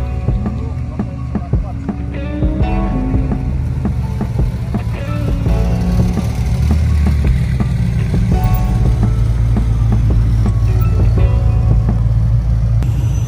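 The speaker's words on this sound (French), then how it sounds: "Des supercars en pagaille, des Porsche, des Ferrari, des Aston, des McLaren." Supercars, including Porsches, Ferraris, Aston Martins and McLarens, rumble and idle at a car meet, a loud continuous engine drone with scattered knocks and bursts. Voices talk underneath.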